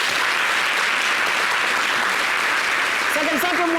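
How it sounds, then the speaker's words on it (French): Loud, dense applause rolls through a French-language talk show studio audience, constant clapping from many hands close up, with a brief voice breaking in near the end. "Applaudissez."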